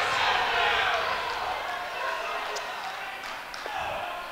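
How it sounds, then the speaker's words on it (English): Crowd applauding and murmuring in an arena after a stalling call at a Big Ten college wrestling match, 184-pound bout between Rutgers and Nebraska; steady broad clapping throughout, fairly loud, with a few sharp claps standing out. "the crowd applauds that call"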